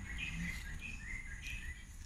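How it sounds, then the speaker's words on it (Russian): Small birds chirp softly outdoors, with short bright calls repeating over a low background hum and no voices. "Слышите, птички поют."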